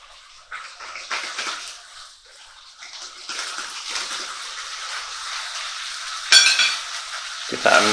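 Ragu stock for an Italian beef ragu being stirred into a hot, sizzling pan, giving a loud, close hiss and bubbling with scraping stir strokes that rise and fall, ending in a few louder clatters.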